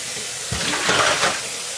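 Noodles for a vegan pad Thai get a quick rinse under a running kitchen tap, a short close splash of water that lasts about a second in a quiet kitchen.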